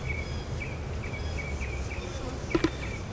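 Honey bees buzz around supers and an uncapping tank during a honey harvest. The faint buzzing is steady and close, with a few sharp handling clicks near the end.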